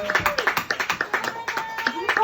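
Small audience at an intimate East Berlin NYC music venue clapping for the performers, a modest crowd's close, distinct hand claps in an uneven rhythm, with voices and chatter mixed in.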